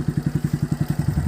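Off-road motorcycle engine labouring on a climb, a steady rapid chugging pulse of low thumps, loud and close, with no talk over it.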